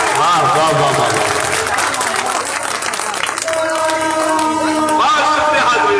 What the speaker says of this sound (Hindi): बस एक बार दोनों हाथ अगर जोरदार ताली बजा अपनी तारीफ करें